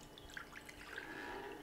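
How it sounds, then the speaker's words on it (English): Water dumped out of the reservoir cup of a Cuisinart single-serve coffeemaker, a brief close splash and trickle of poured liquid with a few drips, no talking. "I'm going to remove this, and I'm just going to dump this out."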